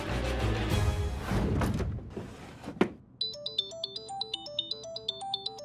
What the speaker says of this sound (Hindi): मैडम को फोन करता हूं।